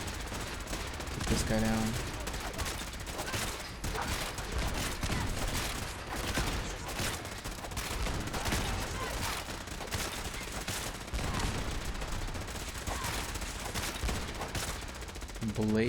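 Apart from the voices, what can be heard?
Gatling laser firing in video game Fallout 4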